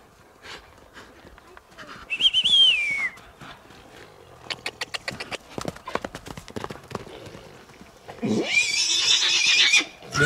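A pony whinnies loudly twice, a shrill neigh early and a longer one near the end, with a run of clip-clop hoof knocks and scuffs between them in a family pony yard.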